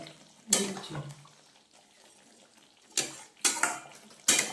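Katla fish rezala in a pan, stirred with a utensil after garam masala goes in: a scrape early on, then three sharp scraping clatters near the end, each brief and fairly close, with quiet gaps between and no talk.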